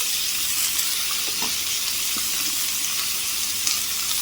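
Vegetables sizzle steadily in a hot pan with salt and turmeric while being stirred, giving a loud, continuous hiss broken by a few soft scraping clicks of the spoon, with no talking.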